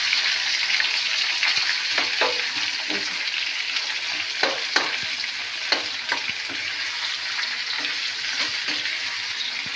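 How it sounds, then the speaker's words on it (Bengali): Onions frying in a pan alongside tomato, green chillies and garlic, a steady bright sizzle with occasional stirring clicks and scrapes, close and continuous with no talking. "এবার এগুলোকে একসাথে একটু ভালোভাবে ফ্রাই করে ভেজে নিই, পেঁয়াজগুলোকে"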